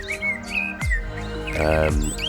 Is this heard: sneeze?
no